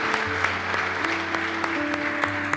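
A church congregation claps in applause for a couple standing before them, a steady wash of hands carrying on throughout, with sustained low tones from an organ or keyboard underneath.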